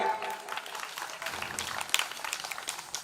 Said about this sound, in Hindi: एक बार अपने लिए ताली बजा दें।